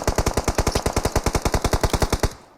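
Rapid automatic gunfire from the PUBG video game: about twenty evenly spaced, loud, punchy shots in one sustained burst lasting just over two seconds, then a short fading tail.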